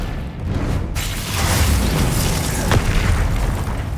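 Confringo spell blasts in Hogwarts Legacy, loud booming explosions with a roaring, rumbling tail that swells after a sharp onset and a second burst near the end, no talking.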